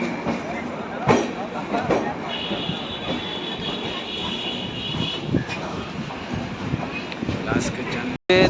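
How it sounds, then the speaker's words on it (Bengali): A train departing Kolkata station rumbles and rattles steadily along, with a passenger talking nearby and a high whine rising briefly over the clatter. "আর আমাদের ট্রেন এখন ছেড়ে দিল কলকাতা স্টেশন থেকে।"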